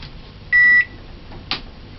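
An oven timer buzzer goes off while gizzada bakes: one steady electronic tone of about a third of a second stands out clearly above a quiet room, followed by a short fainter click.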